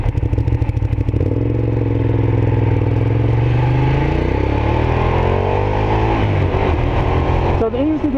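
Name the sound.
Ducati Diavel motorcycle riding up a canyon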